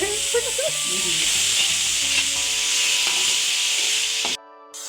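Bottle gourd sizzles and fries in a pan, a loud, steady hiss with scraping and stirring sounds, close up, cutting off abruptly near the end.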